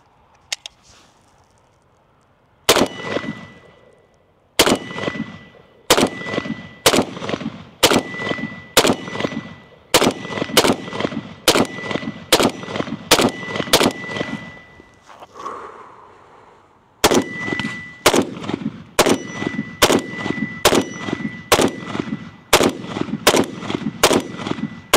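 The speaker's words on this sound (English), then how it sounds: "just gonna keep shooting. I need to put some more rounds through it" A PSA Krink rifle fires through a full magazine outdoors, sharp loud single shots in an uneven rapid rhythm with a short pause midway, each crack ringing briefly with a metallic ping.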